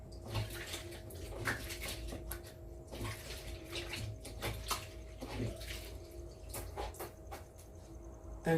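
Hands being washed under running water, a soft continuous splashing with intermittent rubbing and clatter, fairly quiet and close with a faint steady hum behind it.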